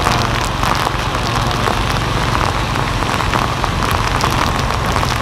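Heavy rain pours down during a storm in Saigon, a loud, dense hiss of drops striking surfaces close by, unbroken from start to finish.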